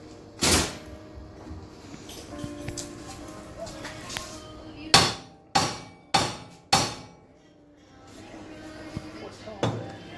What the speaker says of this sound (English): just give it a crack right here with a hammer